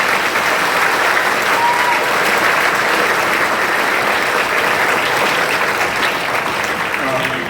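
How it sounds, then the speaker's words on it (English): An audience applauds at a Heard County signing day, continuous even clapping from many hands lasting several seconds at a steady, fairly loud level. "So if everybody would just give them a round of applause before we get started."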